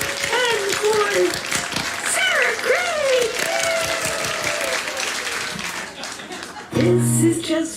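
Clapping and cheering from a club audience at Caffe Lena's 66th anniversary night, a steady broadband patter with voices rising over it, then a brief louder tonal burst near the end.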